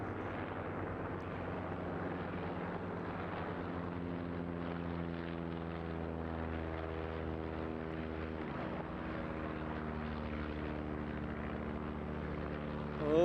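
A propeller aircraft at a seaside airshow drones past steadily. Its engine note holds for a long stretch, then shifts pitch as the plane passes, and the sound swells loud at the very end.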